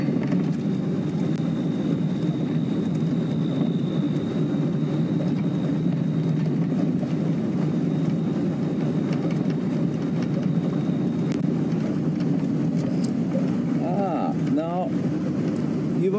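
A safari vehicle on an evening game drive rumbles along at speed, a low, steady engine and wind roar throughout with a faint high whine, while a voice speaks over it briefly near the end.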